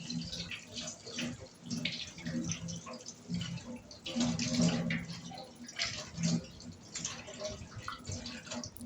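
Tap water runs and splashes in a kitchen basin during dishwashing and sink cleaning, a steady close rush broken by clatter and shifting flow, with soft voices faintly underneath.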